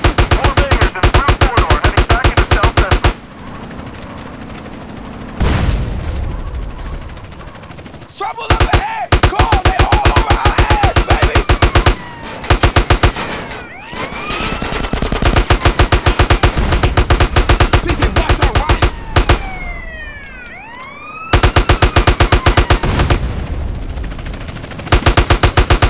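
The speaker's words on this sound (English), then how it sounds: "Just shoot everybody" Rapid automatic gunfire and scattered gunshots from GTA San Andreas during a chaotic gang shootout, loud bursts repeating in dense volleys across the scene, broken by short lulls where game dialogue and background noise come through.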